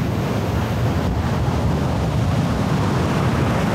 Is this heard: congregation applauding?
no